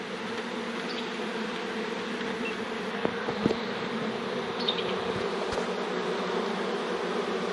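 Honey bees, some half dead, buzzing steadily with a continuous close drone and a few faint clicks and knocks, no voices.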